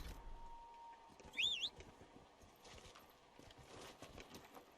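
Quiet, steady clip-clop of horse hooves at a trot in Dragon Age: Inquisition, with a short high whistling tone partway through.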